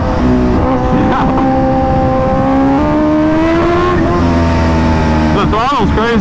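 A Kawasaki Ninja H2R, a supercharged world-record motorcycle, roars loud and close with its engine note rising and falling under throttle, while a voice talks over the engine.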